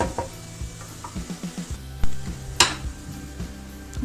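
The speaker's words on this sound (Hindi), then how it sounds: "अब इसे मैं अच्छी तरह से भून लूँगी" Whole spices (bay leaf, cinnamon, cloves, cardamom, cumin) sizzling steadily in hot oil for veg biryani, with a spoon scraping and clinking against the pan in repeated strokes and one sharper clatter, close and alone.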